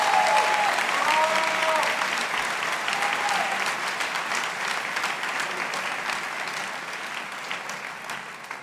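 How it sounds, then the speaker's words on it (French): A large crowd of over 2,500 people applauds at a political rally in Marseille with Mélenchon and Delogu, sustained clapping with a few cheers early on, gradually easing in loudness toward the end. "Vous pouvez vous applaudir."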